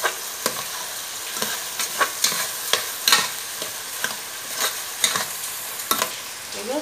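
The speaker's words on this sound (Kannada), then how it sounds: "ಈಗ ಅಕ್ಕಿ ಹಾಕುವ, ಈಗ ಚೆನ್ನಾಗಿ ಮಿಕ್ಸ್ ಮಾಡುವ ಅಕ್ಕಿ ಹಾಕಿ." Rice and tomato are stirred in a pan for jeera rice, with steady rhythmic scraping strokes about twice a second over a soft background sizzle.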